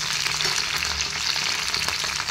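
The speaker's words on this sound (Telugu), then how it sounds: "పాన్ పెట్టుకొని దాంట్లో కొంచెం ఆయిల్ వేసి" Oil sizzles and crackles steadily in a pan on the stove while tomato coconut chutney is being prepared, a close, continuous frying hiss with no voices.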